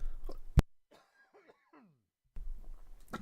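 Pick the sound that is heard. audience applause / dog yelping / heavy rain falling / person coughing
person coughing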